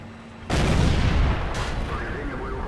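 A sharp, heavy tank gun blast in World of Tanks lands with a sudden boom as a shot strikes the ammo rack, followed by a rumbling decay and a second fainter crack.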